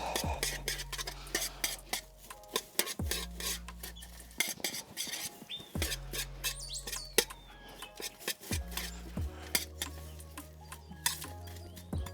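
Perlite being worked by hand into potting soil while repotting a lemon cypress tree: a steady gritty scraping and rustling with repeated stirring strokes, heard under background music.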